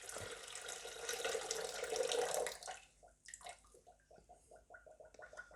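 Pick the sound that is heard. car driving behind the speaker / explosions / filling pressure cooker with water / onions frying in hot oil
filling pressure cooker with water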